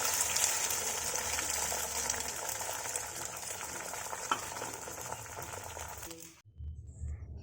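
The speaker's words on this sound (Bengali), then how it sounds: "আমি এইদিকে একটা ডিমের অমলেট ভেজে নিচ্ছি" An egg omelette fries in a pan with a continuous close sizzle and stirring scrapes, which cut off abruptly near the end into quiet.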